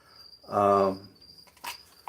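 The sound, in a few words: crickets chirping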